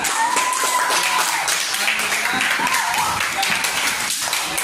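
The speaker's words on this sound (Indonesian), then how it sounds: "Ya, tepuk tangan." Students in an Indonesian Islamic religious education classroom clap during a teaching practice lesson, a steady, dense patter of hands that holds evenly throughout with a faint voice or tone drifting over it.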